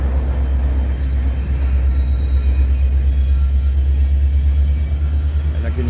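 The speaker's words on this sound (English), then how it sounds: "I can hear the rear or mid-train DPU on that coal drag." Loaded eastbound coal train at Hobson Yard in Lincoln, Nebraska, with a rear DPU locomotive pushing: a steady, heavy low rumble of railcars rolling past nearby, continuous for the whole stretch.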